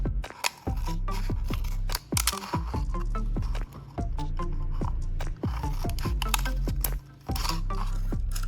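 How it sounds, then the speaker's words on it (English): Scissors snipping lengthwise strips into the upper part of a plastic bottle, a close, loud series of crisp crunching cuts with brief pauses between runs of snips. "I'll use scissors to cut lengthwise along the upper part of the plastic bottle, creating thin fringe-like strips."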